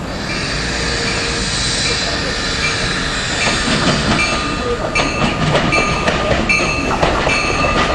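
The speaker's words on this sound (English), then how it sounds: "Here we got our Keystone train coming in," An Amtrak Keystone train pulls in with its cab car leading, a steady rumble of rolling wheels building into clattering rail joints and faint squeals, loud and close at a station in the evening.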